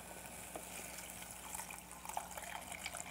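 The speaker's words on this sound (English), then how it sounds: "So now I'm going to deglaze this with water." Water poured into a hot pan holding shrimp stock to deglaze it, a faint, steady hiss with small bubbling crackles throughout.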